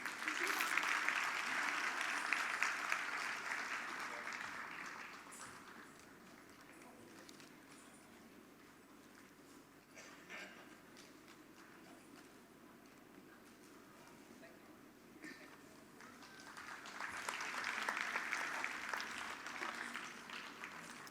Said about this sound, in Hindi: लेकिन हम उनके लिए तालियां तो बजा सकते हैं।